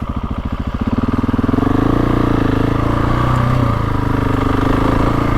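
A GasGas ES 700 dual-sport motorcycle engine runs close by at a campsite by a dam, a chugging idle at first that quickly swells into a steady, loud, continuous drone with slight rises in pitch.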